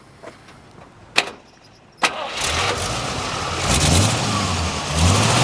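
A 1950 Oldsmobile 88 with push-button start cranks briefly twice, then catches and settles into a steady, smooth-running engine rumble close by.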